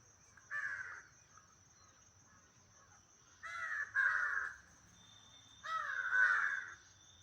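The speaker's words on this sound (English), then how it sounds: "crow, wild crow" A wild crow caws in three separate bursts of rapid harsh calls, fairly faint and outdoors, over a thin steady insect-like whine and quiet background.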